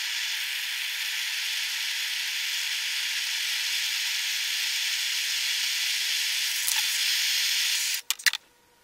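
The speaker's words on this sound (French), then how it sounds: "il n'y a plus qu'à souder" A steel silencer adapter for a Gamo Shadow 1000 air rifle being welded produces a loud, steady, close hiss that runs unbroken for about eight seconds, then stops with a few sharp clicks.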